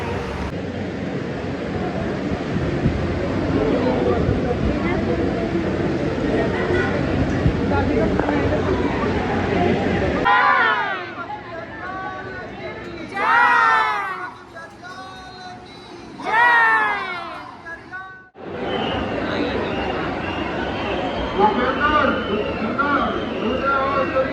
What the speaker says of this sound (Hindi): भयंकर भीड़ हो रखी है